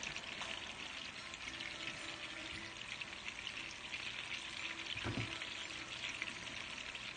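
Meatballs in a pan fry with a steady, dense sizzle and crackle that stays loud and close throughout, without pause.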